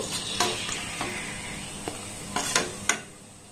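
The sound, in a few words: frying wheat flour biscuits in oil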